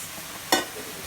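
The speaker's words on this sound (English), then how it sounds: "I'm going to go ahead and add my drained and rinsed chickpeas" A short, sharp sizzle as drained and rinsed chickpeas hit a hot pan of sweating vegetables for a vegetable soup, one quick burst that fades within a fraction of a second.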